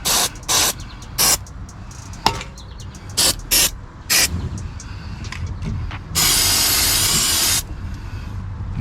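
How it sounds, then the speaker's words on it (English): Aerosol rust treatment is sprayed onto a car's underbody in short hissing bursts, several quick sprays followed by one longer continuous spray, close and loud. "I sprayed all the exposed rust."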